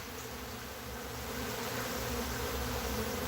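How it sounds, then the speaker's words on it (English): A steady, dense buzzing of many bees fills the air continuously, a constant droning hum with no voices. "The amount of bees I got flying."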